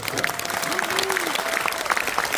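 A conference audience applauds itself at a hosted series premiere event, steady clapping filling the room beneath a voice.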